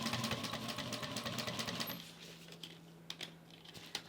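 A Juki industrial sewing machine stitches in a fast, steady mechanical run of needle clatter, then slows and stops, followed by a few scattered clicks and taps.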